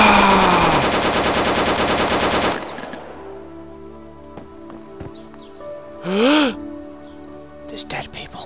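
Rapid automatic gunfire from DayZ rattles loudly and continuously for a few seconds, then stops abruptly, leaving sparse clicks, a short rising whine and scattered faint noises.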